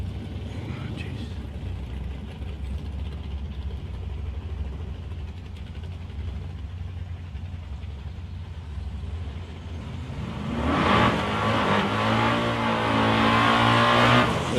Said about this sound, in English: The purple Torana out there, ready for another run.